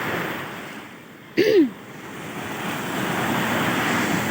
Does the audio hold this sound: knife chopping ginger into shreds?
no